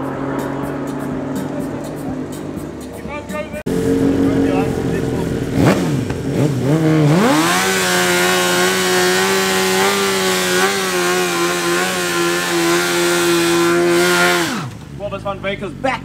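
A BMW S1000RR launches in a quarter-mile drag race at Midvaal Raceway, its engine screaming up through a rising rev sweep into a long, loud, sustained high-pitched wail before cutting off. Talk and crowd noise surround it.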